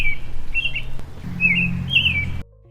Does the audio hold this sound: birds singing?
yes